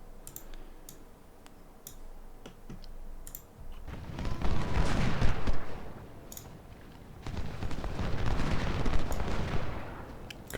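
Cannon and musket fire in the Ultimate General: Civil War battle at Gaines' Mill, with sparse sharp clicks and cracks giving way to two long, dense swells of rumbling volleys at middle distance, with no voices.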